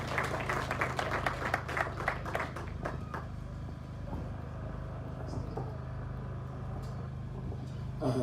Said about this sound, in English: Let us clap hands as he's coming forward.